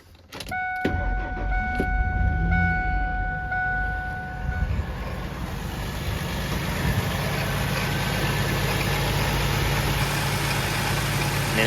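Ford truck engine, fitted with a swapped motor, starting after a brief chime and then settling into a steady, loud idle rumble that continues for several seconds without talk.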